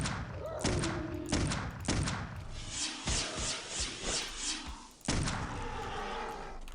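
Magic missile spells fired repeatedly in the first-person game Clive Barker's Undying, a run of sharp bursts and thuds with several closely spaced shots and a loud burst near the end.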